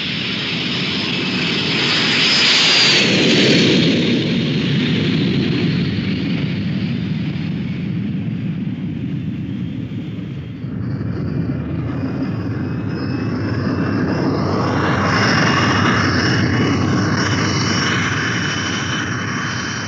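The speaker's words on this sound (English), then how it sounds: "Take over visually and land your airplane." A 1950s fighter-wing airplane coming in to land on a runway, a loud steady roar of aircraft engines with a whining jet tone that dips briefly midway and then swells again, with no voices.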